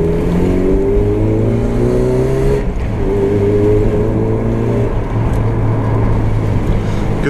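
A loud, steady engine drone from a 1991 Mazda MX-5 with a shifting exhaust note that rises and settles, sustained throughout without pauses; the exhaust has been popping off.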